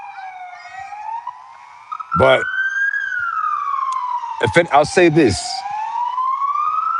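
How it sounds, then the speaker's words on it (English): Emergency vehicle sirens wail outside, a rising and falling tone that carries on throughout while someone speaks briefly over it in two short bursts. "Sorry for the sirens here,"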